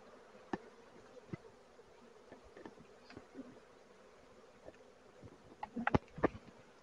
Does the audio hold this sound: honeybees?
yes